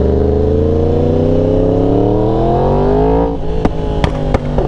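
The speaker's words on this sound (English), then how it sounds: "Oh my gosh, that two-step, bro." Yamaha R1 sport motorcycle on two-step launch control, holding a loud, steady high rev that climbs gradually, then breaking into a few sharp popping crackles near the end, close by with no talk.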